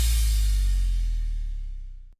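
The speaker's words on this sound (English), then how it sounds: "We've got a cymbal bass drop." A cymbal crash layered with a deep bass drop in a rock riff, one loud hit with a sustained low boom and shimmering wash that decays steadily for about two seconds before cutting off.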